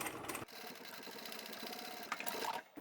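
A sewing machine runs steadily while triple stitching an apron, its rapid, even needle rhythm close and continuous, briefly pausing and restarting.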